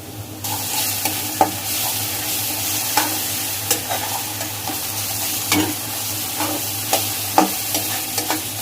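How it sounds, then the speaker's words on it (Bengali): Ginger, garlic paste and cumin garam masala frying in a pan, a steady sizzle broken by repeated scraping stirs of the spoon, close and fairly loud throughout, no voices. "মশলাগুলো কিছুক্ষণ একটু নেড়ে চেড়ে নিতে হবে।"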